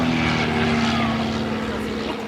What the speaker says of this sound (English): He just did a slow roll in a Piper Cub.